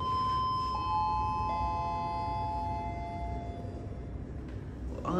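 Arrival chime from a KONE MonoSpace machine-room-less traction lift in an Indooroopilly shopping centre, a few clear sustained tones ringing out and decaying over steady mall background noise, fairly close and alone.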